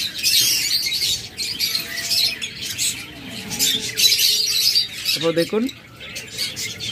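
Pet birds kept for sale squawk and chirp in bursts against a constant bright chatter of many birds. Someone speaks briefly over them.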